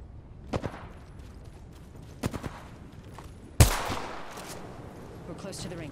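Weapon fire in the battle-royale video game Apex Legends: a few short, sharp shot bursts, then one loud blast followed by a lingering rumble, heard at moderate loudness under faint background noise.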